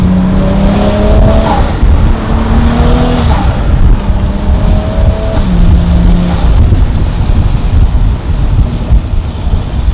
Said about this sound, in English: It's like the sound just gets better and better as the car just keeps running.